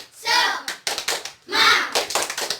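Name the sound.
schoolchildren doing the "tepuk semangat" clapping routine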